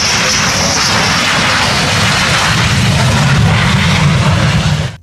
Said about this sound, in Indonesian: lihat teman-teman, di sini ada pesawat jet